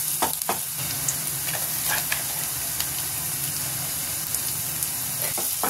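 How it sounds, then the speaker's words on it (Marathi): Onion with a pinch of salt fries in hot oil, a soft continuous sizzle broken by scattered clicks and scrapes of stirring, heard alone at moderate distance. "आता आपण याच्यात कांदा घालू. कांदा थोडासा ट्रान्सपरंट सॉफ्ट होण्यासाठी थोडंसं मीठ घालूया आपण."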